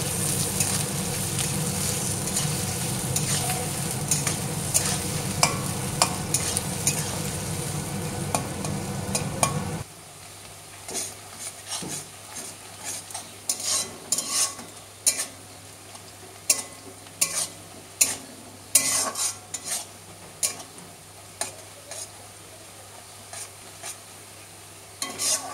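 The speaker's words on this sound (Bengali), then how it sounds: "বেশ সুন্দর লাল লাল হয়ে গিয়েছে পেঁয়াজগুলো ভাজা।" Onions fry in a pan, giving a loud, dense sizzle at first, then a quieter crackle punctuated by repeated scraping taps of a spoon stirring them.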